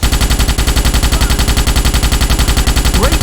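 An automatic rifle blasts continuously in the Starship Troopers video game, a loud, close, rapid unbroken stream of shots firing at a steady rhythm for the whole stretch.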